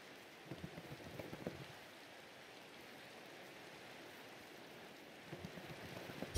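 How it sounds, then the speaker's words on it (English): Rain falls in the Minecraft video game as a steady, faint hiss of droplets that continues throughout, with no one speaking over it. "Oh, and of course it's raining."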